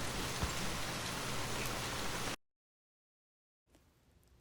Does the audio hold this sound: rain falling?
yes